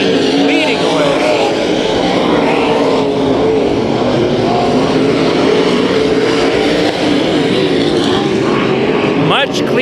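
IMCA Modified race cars roaring around a dirt speedway during a heat race at Kings Speedway, with loud continuous engine drone under a track announcer's commentary.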